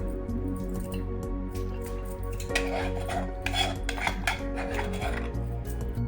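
A spoon stirring cooked tamarind into rice in a pot for pulihora, giving soft repeated scraping and squishing with occasional metallic clinks, close up over a steady background hum.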